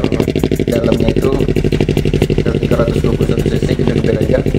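A Yamaha MT-25 motorcycle engine, bored up to 321cc with Yamaha R3 internal parts, runs steadily up close, with a dense, rapid pulsing idle and loud throb that carries on without a break.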